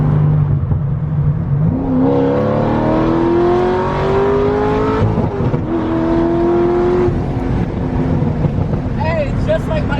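Corvette Z06 pulling hard in second gear on a straightaway, its engine note climbing loud and close with rising harmonics, a brief shift-like dip midway, then settling; people talk faintly over the roar.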